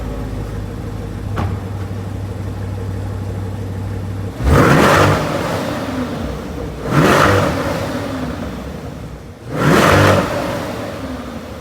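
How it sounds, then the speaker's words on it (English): C8 Corvette fitted with 2M Fabrication high flow cats, idling low and steady, then three loud, sharp throttle blips a few seconds apart, each swelling quickly and dropping back toward idle, close and alone. "Now we're gonna rev this thing and see how it sounds."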